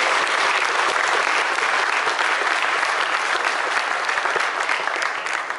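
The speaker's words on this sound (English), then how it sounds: "let's give all the committee members a round of applause" An audience at an NFDA 2016 funeral directors' exhibition gives committee members a sustained round of applause, dense and even clapping that stays loud throughout and eases off slightly at the close.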